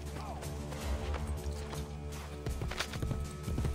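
Hooves clatter as a horse runs off in the Assassin's Creed Brotherhood video game, a quick rhythmic clip-clop over steady game ambience, with a couple of heavier thuds.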